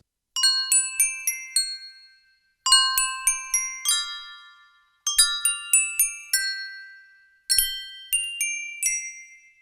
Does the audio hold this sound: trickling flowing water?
no